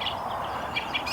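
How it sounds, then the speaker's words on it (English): Birds singing in trees in the Irish countryside of Kildare in early spring, with a few short chirps rising over a soft outdoor background in a brief moment. "Birds are singing away there now."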